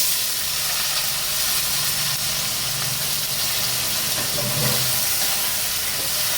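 Onion and tomato hitting hot oil with cumin seeds in a kadai give a steady, fairly loud hissing sizzle that holds evenly throughout, with no talking.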